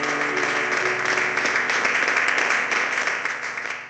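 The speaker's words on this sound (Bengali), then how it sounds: "তারপর করতালিতে ফেটে পড়ল পুরো অডিটোরিয়াম।" Applause fills an auditorium in a Bengali audio drama, a dense, steady wall of clapping throughout that tapers slightly at the end, with a faint music bed underneath.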